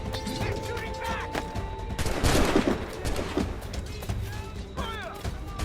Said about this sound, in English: They're shooting back!